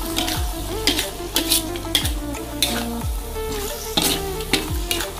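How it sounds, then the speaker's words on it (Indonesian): A spatula scrapes and stirs a large batch of Javanese fried noodles with carrots sizzling in a big pan, with repeated metallic scrapes over a constant loud frying hiss. "Kembali diaduk lagi."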